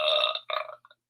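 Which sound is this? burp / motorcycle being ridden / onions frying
burp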